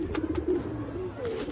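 Pigeons in a pigeon house coo softly and repeatedly at close range, with faint rustling as they peck at bread and no talking.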